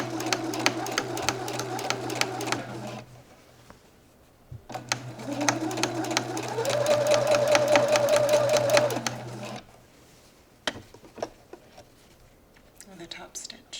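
Up close, a sewing machine topstitches a shirt in two loud, steady runs, one short and one longer, separated by a brief pause and followed by light handling noises.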